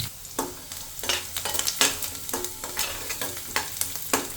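Peanuts fry in hot oil with a steady sizzle as a spoon stirs them, giving repeated scraping strokes roughly every half second, close and moderately loud.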